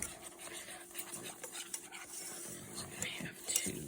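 Zucchini pecan bar batter with vanilla being stirred in a bowl, soft irregular scraping and spoon clinks, close but faint.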